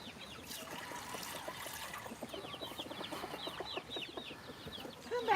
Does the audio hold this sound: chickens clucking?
yes